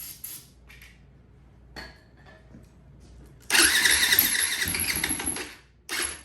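A 450 dirt bike engine cranking after a spray of brake cleaner, quiet clicks and fiddling followed by a loud rattling burst of engine noise that briefly stops and kicks again.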